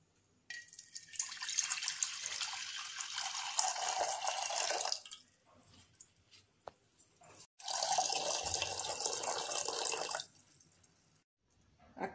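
Water splashes in two long pours into a cooking pot while making a moringa leaf dish, each pour loud and hissing, separated by quieter clinks and drips.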